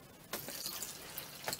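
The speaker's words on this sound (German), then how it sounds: "eine halbe Dose Wasser hinein" Water is tipped from a can into a hollow in a dry sand and cement mix for casting small concrete rabbits, a splashing pour starting abruptly, close and moderately loud, no talk.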